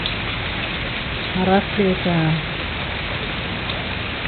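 Steady rain falls on an outdoor swimming pool in Costa Rica, a continuous broadband hiss throughout, with someone speaking briefly over it midway.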